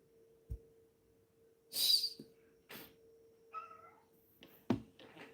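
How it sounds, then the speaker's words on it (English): A faint cat meow amid quiet room noise during a live stream, with a few soft knocks and a low hum, heard somewhat distant. "Oh, that was my cat."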